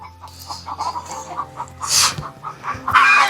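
Chickens raised at an old family house near a coop cluck repeatedly up close in a quick, uneven series, with a couple of louder squawking outbursts.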